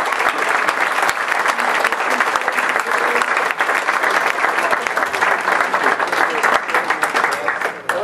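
An audience applauds the 2002 national champion men's soccer team and Hall of Fame inductees at an induction ceremony, sustained dense clapping from a crowd filling the room at steady loudness.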